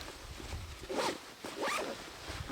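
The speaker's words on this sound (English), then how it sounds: "Zips up like so." A side pocket on a KUIU Icon Pro 5200 backpack is zipped shut in two quick, close pulls, each a short rasping zip, with nothing else heard.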